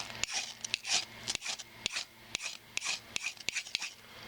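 Repeated hand scraping of a ferrocerium rod with a high-speed steel striker or old knife blade to cut ridges into it, sharp rasping strokes in a steady rhythm, close and fairly loud with no talk.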